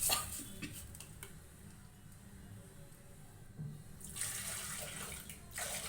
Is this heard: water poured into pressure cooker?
yes